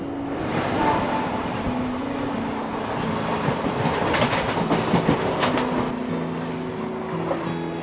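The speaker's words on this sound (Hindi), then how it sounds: "और सामने से आ रही है अमृतसर मुंबई पश्चिम एक्सप्रेस।" An Amritsar–Mumbai Paschim Express rolls in on an Indian railway line, a steady loud rumble with wheel clatter building and horn-like tones rising throughout, heard from trackside with no talk.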